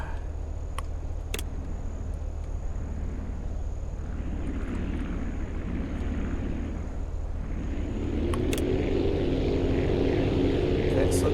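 Propeller aircraft landing on a runway in the game Aviassembly, a steady droning engine hum with the pitch and roar swelling near the end, plus a few brief clicks.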